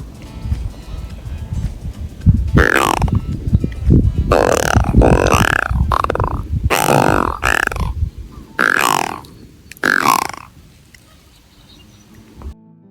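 Low, croaking burp-like grunts from channel catfish arrive in irregular bursts, some close together, over a steady murky background rumble.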